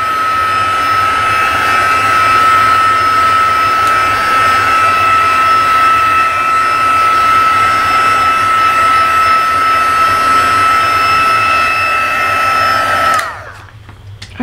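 An embossing heat tool turned up high to heat an ink background made with Stampin' Blend markers and isopropyl alcohol, giving a steady loud blowing whir that runs alone for about thirteen seconds before switching off abruptly.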